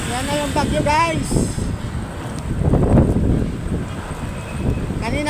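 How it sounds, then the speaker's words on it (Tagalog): Strong wind ahead of an approaching storm buffets the microphone while riding along the Calax expressway, gusting in loud surges and swells, with a voice talking over it. "Ngayon napakalakas ng hangin."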